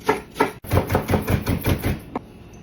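A knife chops cilantro on a cutting board in about a dozen quick, close, crisp strokes, ending with one last tap.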